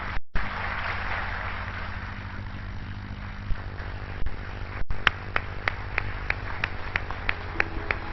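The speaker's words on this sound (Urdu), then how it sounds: "بہت سی تالیاں اعتزاز حسن کے لیے، بہت سی تالیاں" A studio audience at a talk show honouring Shaheed Aitzaz Hassan gives a wash of applause, which thins into sparse, evenly spaced individual claps.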